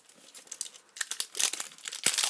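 Plastic crinkles and tears as a Disney Princess surprise bag is peeled open, with close, irregular crackling bursts that grow louder and busier toward the end.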